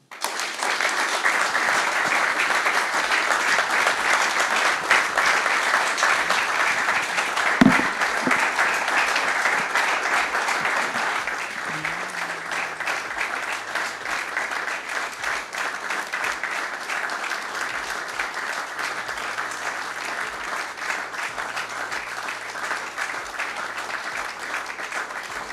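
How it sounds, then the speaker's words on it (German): Long sustained applause from an audience at a talk-show event with a contemporary-witness guest, steady dense clapping lasting the whole stretch, with a brief cheer partway through. "Also wir hatten selten so einen langen Applaus"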